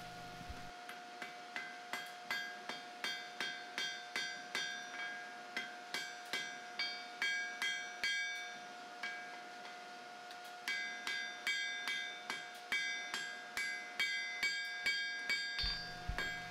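Steel being hand forged on an anvil with a hammer: steady, evenly spaced ringing blows that repeat in long runs with a short pause between them, loud and metallic, with no voices.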